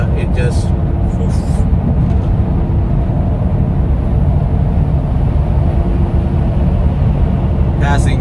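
A GMC Hummer EV SUV accelerates on the road, heard from inside as a steady, loud rumble of tire and road noise with a continuous electric drive hum and no engine note.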